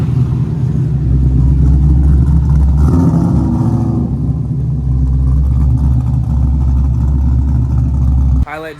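A small car fitted with a big engine rumbles and revs as it drives, a deep throaty drone that swells under acceleration, with people talking over it inside the car.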